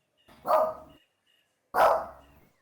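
A dog barks twice, close and loud, the two sharp barks separated by a short silence, with no talking.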